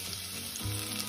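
Garlic fries in a pan for a tomato soup, giving a soft, even, continuous sizzle with a slight stir, quiet and close.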